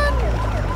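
A police car siren wails from a vehicle on the road, its rising and falling tone steady over a low rumble for a brief moment.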